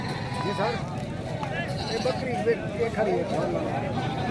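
Goats bleating at a crowded livestock market, several calls rising over a steady babble of nearby talk and general crowd noise.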